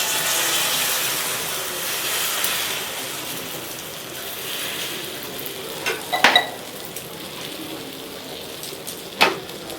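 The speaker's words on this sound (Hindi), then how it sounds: "अब मैं इसमें डालूंगी अंडा, जो यहाँ पे मैं मिर्ची, प्याज और नमक वमक डाल करके तैयार कर रखी हूँ" Beaten eggs with chopped chili, onion and salt frying in a hot pan, a soft steady sizzle running throughout, with a few sharper clinks and scrapes of a utensil partway through and near the end.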